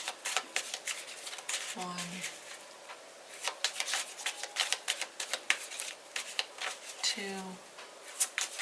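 Tarot cards being shuffled, with quick crisp riffling bursts repeating in irregular runs, close and fairly quiet, while a voice counts aloud between the shuffles.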